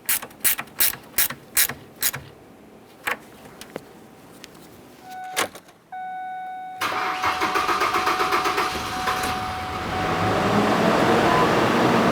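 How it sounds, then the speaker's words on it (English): A 1998–2011 Ford Ranger 2.3L four-cylinder after a fuel injector replacement: a run of loud ratcheting clicks, then the starter cranks briefly before the engine catches and settles into a steady, close idle. "continue on by starting up the vehicle, let it run for a little while"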